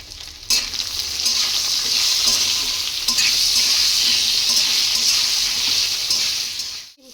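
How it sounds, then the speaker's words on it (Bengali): Flat beans and potatoes fry in hot oil in a pan, giving a loud, steady sizzle throughout with a brief stir near the start and the sound cutting off at the end. "সিমগুলো একটুখানি ভেজে নেব।"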